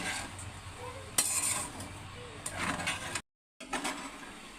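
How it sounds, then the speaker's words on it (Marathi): Sago khichdi is sautéed and stirred in a pan, with soft scraping and clinks of a spoon against metal over a faint sizzle, interrupted by a brief cut to silence. "पाच ते 6 मिनिटं ह्याला असंच परतून घ्यायचं।"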